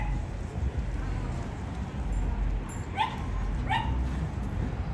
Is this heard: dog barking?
yes